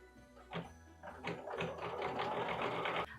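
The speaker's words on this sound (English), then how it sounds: "you can come to your settings and slow down your machine just a little bit before you stitch on" A sewing machine stitches through leather at a slowed speed, a close, steady mechanical whirring with rhythmic needle clatter that starts and stops in short bursts before running continuously for about two seconds.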